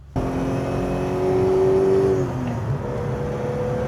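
A BMW M535i's 3.5-litre engine idles, then revs up into a rising, sustained roar before dropping back to a steady idle, loud and close.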